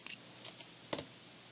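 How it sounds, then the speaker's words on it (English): Beading thread snipped with scissors while finishing a loom-woven seed bead fringe bracelet: a few faint, brief clicks of the blades, with two soft cuts in quick succession near the end, alone in a quiet room. "I will cut off the thread and be careful not to cut off anything else."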